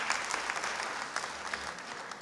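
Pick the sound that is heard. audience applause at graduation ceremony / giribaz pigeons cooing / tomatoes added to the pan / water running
audience applause at graduation ceremony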